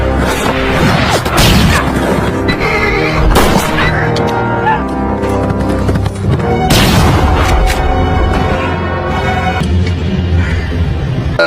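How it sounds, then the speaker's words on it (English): Western film gunfight with loud booming gunshots, crashes and whooshes layered over dramatic orchestral music, dense and continuous throughout with several sharp impacts. "Ned and his gang arrived and a gunfight ensued"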